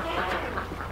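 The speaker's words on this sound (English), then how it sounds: "The duck and goose pond." Ducks quack faintly at a duck and goose pond, giving a few short nasal calls against soft outdoor background noise.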